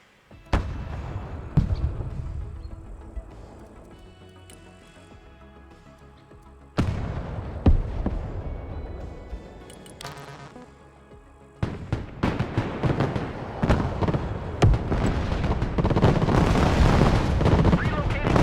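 Mortar and weapons fire from the video game Broken Arrow during a peacekeeper mission: repeated loud booms and explosive bursts, with dense sustained gunfire and blasts building toward the end, and radio-style voice chatter woven through.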